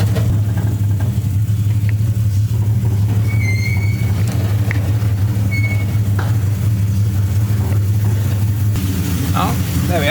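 A Barra-powered C1100 International pickup truck driving slowly around a yard, a steady low engine rumble runs throughout, with people talking over it and a few faint squeaks.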